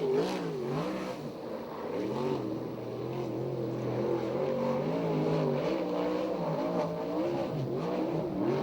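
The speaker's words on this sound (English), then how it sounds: "Next car on the racetrack" A USAC/CRA sprint car laps a racetrack in Ventura, California, its engine droning loud and continuous with rising and falling revs as it runs alone, no talk over it.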